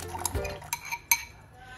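Dried chickpeas go into water heating in a pressure cooker, with a few quick metallic clinks and a light splash close by.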